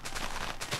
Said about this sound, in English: Just hear a big explosion going off in the background.